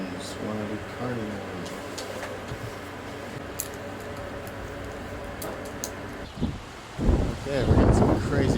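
Strong gusty wind blows outdoors, a steady rushing roar that buffets the microphone in heavy bursts over the last couple of seconds, with a person talking through it.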